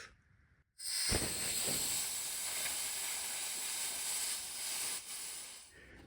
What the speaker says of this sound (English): let's pull the air out, pull this lid off